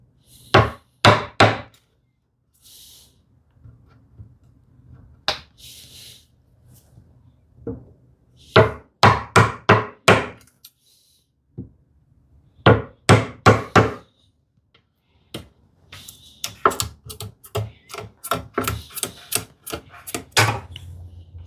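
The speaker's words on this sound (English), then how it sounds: "Here I am angling my chisel a bit." A hand chisel strikes and cuts into wood while a stopped housing dado is chopped, sharp close knocks in irregular bursts of two to five, separated by pauses, ending in a quicker cluster of lighter taps.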